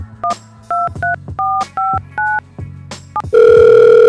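Telephone keypad tones dialed one after another, about nine or ten short paired-tone beeps in an uneven rhythm, each loud and close, followed by a steady continuous ringback-like tone at the end; no talking.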